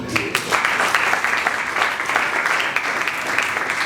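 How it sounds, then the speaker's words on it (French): A comedy show audience breaks into sustained applause, a dense wash of clapping with a few sharper claps standing out, steady from start to finish. "Ça s'applaudit quand même, non?"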